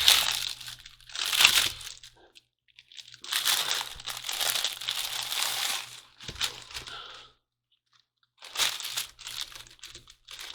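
Plastic bags of parts for a Takom 1/35 Early Panther A tank model kit crinkle and rustle loudly in several bursts, with near-silent pauses between the handling.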